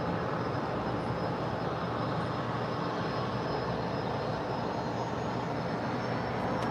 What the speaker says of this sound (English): And there goes China Air Cargo 5137 off to Taipei